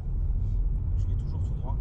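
A car coasts forward at engine idle after the clutch is released in second gear during a driving lesson, giving a steady low rumble with someone talking over it.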